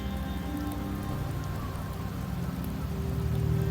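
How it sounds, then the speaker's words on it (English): Steady rain pours down in Septimont, a rainy region in the game Wuthering Waves, a dense even patter of drops on surfaces that holds for several seconds with a low rumble beneath and swells slightly toward the end. "The rains in Septimont never seem eager to leave this season."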